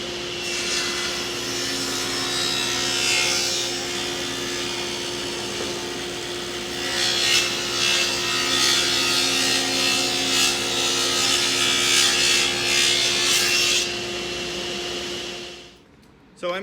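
A saw cuts a corner chunk from a wooden picture frame with a loud, steady rasping hum, the cut growing rougher near the end before it stops abruptly.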